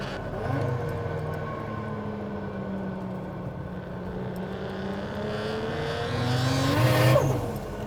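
A 500hp Toyota Mark II JZX100 with a two-way differential and failed power steering drifts. Its engine holds a steady, loud drone throughout, then revs harder and swells near the end, with no talking.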